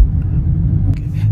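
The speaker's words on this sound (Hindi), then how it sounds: "काफी अच्छी चल रही है गाड़ी।" Hyundai Venue rolling along a road, heard from inside the cabin as a steady low engine and road rumble that holds at an even level throughout, with no voices.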